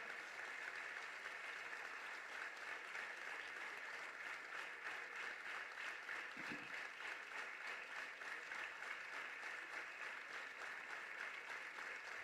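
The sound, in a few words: audience applause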